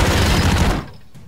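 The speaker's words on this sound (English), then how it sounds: "Have a machine gun." A burst of close, loud, rapid machine gun fire in the side-scrolling action game Broforce, ending abruptly after under a second with a short decaying tail.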